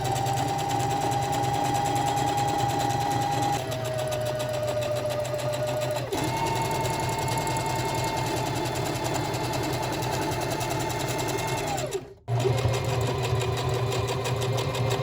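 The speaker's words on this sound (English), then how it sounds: "you could just basically sew right over the pocket as well" A sewing machine stitches a pocket onto pants made from a woven throw blanket, running steadily and close for about fifteen seconds, its motor pitch dipping slightly a few times and cutting out briefly near the end before restarting.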